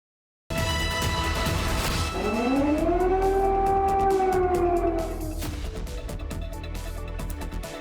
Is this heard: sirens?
yes